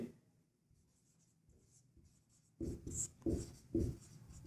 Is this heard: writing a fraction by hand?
yes